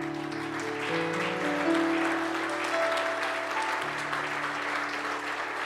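Congregation in a church service applauding, a sustained wash of clapping from many people, moderately distant, with sustained organ or keyboard chords holding beneath it.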